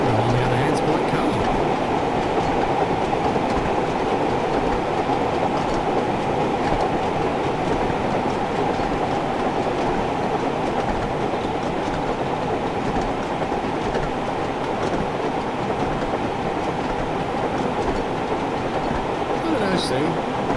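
Railway carriages run steadily along the rails, a loud continuous rumble with faint clickety-clack that holds constant throughout, and some voices underneath.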